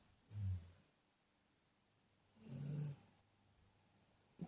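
A dog snores loudly at close range, two slow rasping breaths spaced about two seconds apart in an otherwise quiet room, with a faint snort at the end.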